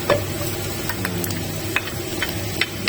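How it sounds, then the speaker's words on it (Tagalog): Garlic sautéing in a pan with onion and sauce for Filipino corned beef pares, giving a steady close sizzle with faint stirring clicks and no talk. "Garlic. Igisa lang natin."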